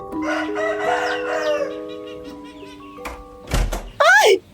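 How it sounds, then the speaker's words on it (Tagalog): Talk and background bustle at first, then a thud, followed by a loud, strained rooster crow rising and falling near the end. "kasabay ng tilaok ng mga manok"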